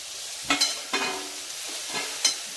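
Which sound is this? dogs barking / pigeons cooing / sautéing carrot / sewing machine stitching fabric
sautéing carrot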